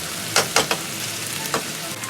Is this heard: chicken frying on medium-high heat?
yes